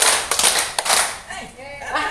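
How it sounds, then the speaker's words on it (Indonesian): A roomful of people claps in a clapping game at a work meeting, a few quick overlapping bursts near the start, then voices talk and laugh as the clapping fades. "tepuk 3."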